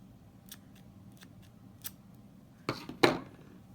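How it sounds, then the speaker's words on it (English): Scissors trim the yarn fringe on a crochet triangle scarf, with several soft snips at first and then a few sharper, louder cuts close by near the end, in a quiet setting with no talk. "you can trim your hairs so they're nice and even"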